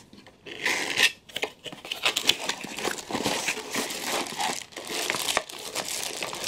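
Crinkly plastic packaging of a portable mini vacuum cleaner is handled and opened, giving close, irregular bursts of crackling and rustling with brief pauses between handfuls.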